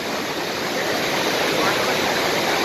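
A waterfall near Koyyuru in Chintapallem village, close to Paderu, roars steadily as a dense, continuous broadband rush of falling water, close and loud throughout with no breaks.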